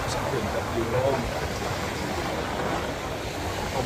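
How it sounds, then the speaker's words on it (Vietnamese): Sea waves breaking on an evening beach, a steady, fairly loud wash of surf and rushing water that fills the whole stretch with no distinct individual crashes. "Sóng biển đập chiều luôn."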